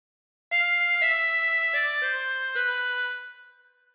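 Harmonica playing phrase 11 of the Star Spangled Banner: a short run of about five connected notes, close and steady, stepping from one pitch to the next before a held final tone fades, with no talking.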